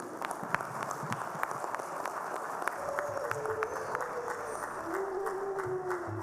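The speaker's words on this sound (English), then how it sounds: "stand up, clap loudly." A conference audience at GIMACON 2022 claps after a talk, scattered hand claps thickening into steady applause, with a faint voice and some background sounds under it.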